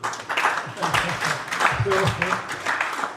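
Audience at a Gambian sports legends event breaks into close, lively applause, clapping in dense bursts while voices murmur and speak underneath.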